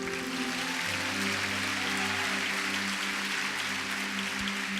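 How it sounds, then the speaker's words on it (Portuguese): A church congregation breaks into loud applause for the Lord, a thick continuous roar of clapping layered over a sustained low musical drone from instruments in the room. "Dê um forte aplauso ao Senhor."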